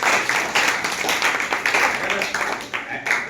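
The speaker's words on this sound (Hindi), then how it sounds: "ताली बजाइए इनके लिए।" A classroom full of students claps for a student in steady, dense applause lasting several seconds, close and fairly loud, with voices mixed in.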